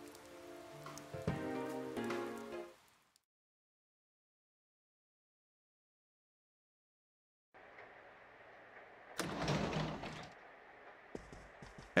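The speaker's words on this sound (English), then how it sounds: "Good thing it looks like the rain will keep up all night." Rain ambience in the video game Persona 4 Golden: a few seconds of soft music end, a long silence follows, then a steady, moderate patter of rain with a brief louder burst.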